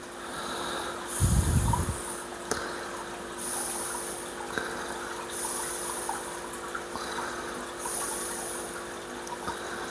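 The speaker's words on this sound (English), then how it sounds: "that water running" Aquarium water siphoned through a tube into a shrimp tank being filled, a steady low trickle and gurgle running throughout, with a brief louder rushing burst early on and periodic airy hiss.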